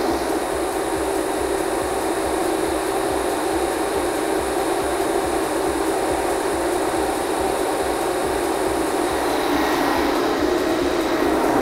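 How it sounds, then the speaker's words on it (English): Appion Tez 8 vacuum pump running while pulling a vacuum, a steady, loud, continuous motor hum and whir with no pauses or voices. "We're starting to get down to a pretty good vacuum here, so we'll just let it run"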